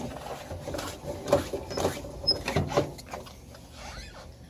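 The windows of a 1962 Buick Special convertible roll up and down, giving faint, uneven mechanical clicks and scraping from inside the car.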